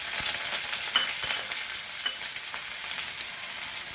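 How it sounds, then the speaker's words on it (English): Onions frying with curry leaves in hot oil for a Goan suran tonak, an elephant foot yam curry; a continuous loud sizzle with occasional sharp pops and stirring clicks, no voices. "So same oil I have taken to fry our onions"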